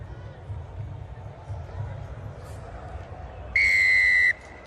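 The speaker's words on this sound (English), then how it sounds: "on the whistle of referee Miller, it is Spain to get us going" A referee's whistle sounds one sustained blast near the end, signalling kickoff of a women's rugby match between Madagascar and Spain, over a low crowd murmur with commentary in the background.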